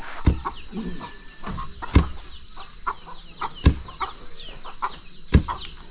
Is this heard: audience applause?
no